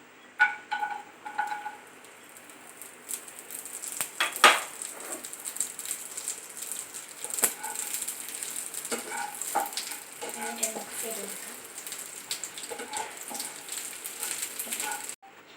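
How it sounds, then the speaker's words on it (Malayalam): Cashews and raisins fry in hot ghee in a pan, a steady close sizzle with occasional stirring clinks and scrapes, and no talking. "നെയ്യ് ഇവിടെ ചൂടായി വന്നിട്ടുണ്ട്. നമുക്ക് ഈ അണ്ടിപ്പരിപ്പ് മുന്തിരി ഇട്ട് കൊടുക്കുന്നതാണ്."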